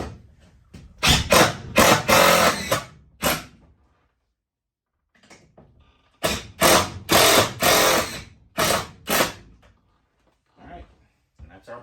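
A power driver runs in screws to mount a breaker box during a tiny house electrical installation, heard as two long, loud whirring bursts separated by a quiet pause.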